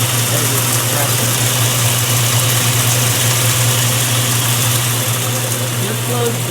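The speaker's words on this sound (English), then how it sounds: "There's this compressor." A compressor running continuously near an RV being unwinterized, a loud steady mechanical drone with a low hum and vibration that holds constant throughout.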